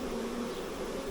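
A honey bee swarm settling into a nuc hive gives off a thick, even buzz up close, unbroken for the whole moment with no talking.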